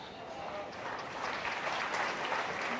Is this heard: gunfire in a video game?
no